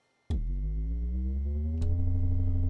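Motor Synth MKII electromechanical synthesizer, its motors spinning up with a low hum that glides steadily upward in pitch after a sharp start, a second click partway through before the whirring tone carries on, fairly quiet and alone.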